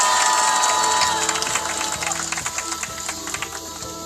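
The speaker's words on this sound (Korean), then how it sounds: "큰 박수로 맞으시기 바랍니다." An outdoor peace rally crowd at Soseong-ri cheers and claps, loud whoops and shouting at first giving way to rhythmic, near clapping that gradually thins.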